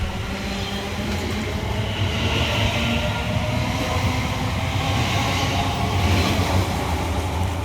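Two coupled London Overground Class 710 electric units departing Rectory Road station, a loud continuous rumble and rail roar close by with faint wheel clatter, swelling slightly near the end.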